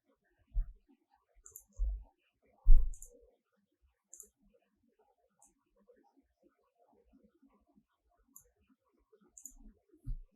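A computer mouse clicks a handful of times, soft and close, scattered irregularly across quiet stretches with faint background noise while programming software.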